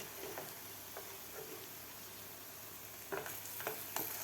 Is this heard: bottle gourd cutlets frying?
yes